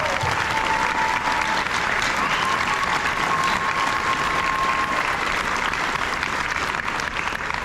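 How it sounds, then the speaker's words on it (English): A crowd in a school gym gives a loud, sustained round of applause for 8th graders at an awards ceremony, a thick wash of many hands clapping steadily for several seconds. "Let's give all of our 8th graders a round of applause."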